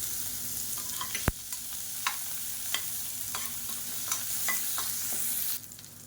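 Chopped onions, red chilies and curry leaves fry in oil in a pan, a soft steady sizzle with intermittent stirring scrapes and one sharp clink, quiet and close with no talk.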